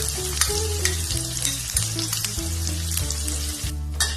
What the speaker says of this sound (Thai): เราก็จะนำแครอทนะครับ ใส่ลงไปผัดต่อเลย